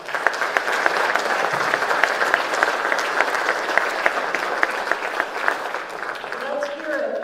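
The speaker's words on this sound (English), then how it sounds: "please give Averett a round of applause" An audience at a college athletics hall of fame induction ceremony claps in a sustained round of applause, filling a hall evenly throughout, with a voice briefly audible near the end.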